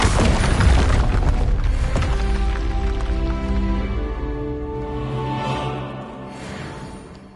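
A Confringo blasting spell detonates in Hogwarts Legacy, a loud, deep explosive boom that rolls into a long crackling, rumbling decay lasting several seconds and fading out.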